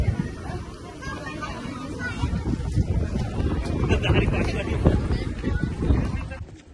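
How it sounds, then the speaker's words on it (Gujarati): Cool wind gusts buffet the microphone at the Statue of Unity, with a low, blustery rumble that swells and fades, while voices chatter in the background. "મસ્ત મજાનો ઠંડો પવન આવે છે"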